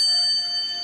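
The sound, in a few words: quiz bell ringing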